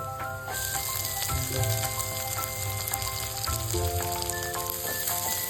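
Chopped medium onion frying in oil in a pan for ghee tomato bath, a steady close sizzle with occasional stirring scrapes and clinks throughout.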